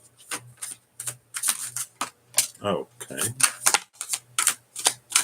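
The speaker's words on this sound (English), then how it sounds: "This is how you shuffle if you want to get cards to fly out." Tarot cards being shuffled, a rapid run of crisp riffling bursts and flicks in an irregular rhythm, close and fairly loud, with a brief spoken word in the middle.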